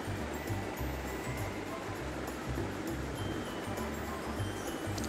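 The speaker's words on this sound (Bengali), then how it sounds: "এবার একটু গ্রেভির জন্য জল দেওয়া হচ্ছে।" Water pours into a pan of cooking chicken to make a lemon butter gravy, a steady, fairly loud rushing hiss that holds evenly throughout, close by and without a break.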